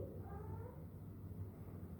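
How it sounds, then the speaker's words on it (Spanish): A pet cat at home meows briefly in a soft, drawn-out cry over a low rumbling background, with no talking. "Van a escuchar probablemente mi gata un poco porque hace muchos ruidos"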